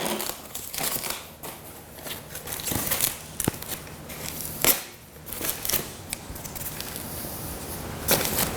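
Foam wrapping being cut and peeled off bicycle handlebars during assembly of a Cruiser XL, close crinkling, snipping and tearing sounds in irregular bursts.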